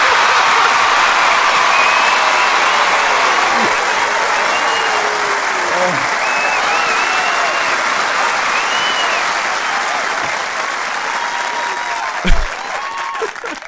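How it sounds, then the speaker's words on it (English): Loud, sustained applause from a large crowd fills the whole stretch, dense and steady, with faint voices and a sharp knock near the end. "I didn't mean the applause. That just happened."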